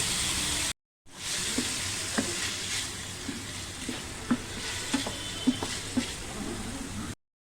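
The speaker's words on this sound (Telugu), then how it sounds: "ఈ పన్నీర్ ఫ్రై చేసుకోవాలి." Paneer frying in ghee in a pan makes a constant close sizzle, broken by soft periodic scrapes and taps of stirring. A short silent gap falls near the start and another at the very end.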